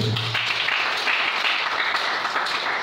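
A church congregation applauds in a dense, steady wash of clapping that runs loud and unbroken throughout, with a faint murmur of voices mixed into the crowd noise.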